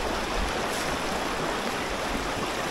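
Shallow river rapids rush around a small cheap boat on a winter trip, a dense, loud, steady roar and splash of water close by with no talk.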